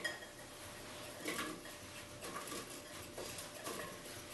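Granny Smith apples being moved into a mixing bowl for apple pie, giving a few soft knocks and light clinks of dish and utensil against the bowl at a quiet level, with no voices.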